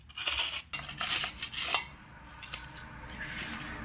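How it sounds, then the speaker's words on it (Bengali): Two potatoes being grated lengthwise on the coarse side of a large box grater, giving a few quick, close rasping strokes at first that then fade to softer scraping. "প্রথমে আলু দুটোকে আমি এখানে বড় গ্রেটারের এই অংশটা দিয়ে গ্রেট করে নেব।"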